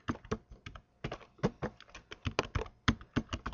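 Fingers tap out login details on a computer keyboard in quick, uneven bursts of close, crisp keystrokes with short pauses between runs.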